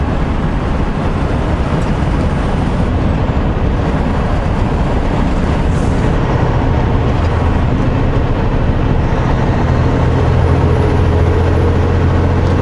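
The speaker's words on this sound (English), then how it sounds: "I actually had to use brakes." Semi truck on the road at loud, steady road noise with a heavy engine rumbling throughout, while the air brakes seem to come in softly partway through.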